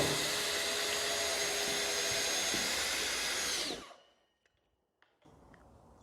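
A power saw cuts through sheet material resting on a ToughBuilt sawhorse, a steady loud whine for about four seconds that winds down and stops, followed by near silence with faint handling clicks and a low return of background noise.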